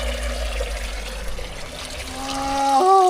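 Water runs from the Fontana dei Minatori, a village fountain in Pazzano, Calabria, as a steady close pour and trickle, with tonal whistling sounds rising toward the end.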